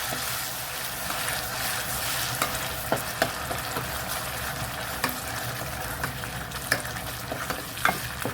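Blended spice paste for Malaysian mee rebus fries in hot oil in a pan, a steady close sizzle with intermittent stirring scrapes and pops, no talk.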